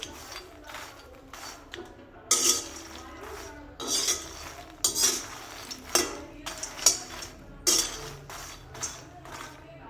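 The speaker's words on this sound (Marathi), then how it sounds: "मखाणे भाजून घेऊया" Fox nuts (makhana) dry roasting over low heat in a pan, heard as repeated scraping and rattling knocks of a spoon against the metal, close and moderately loud, coming in irregular bursts with no talk.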